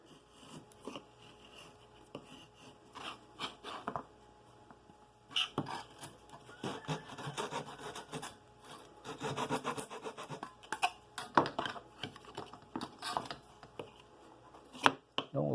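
A freshly sharpened chisel pares a soft wood propeller by hand, giving irregular close scraping and chopping strokes that come in uneven bursts, with some busier stretches.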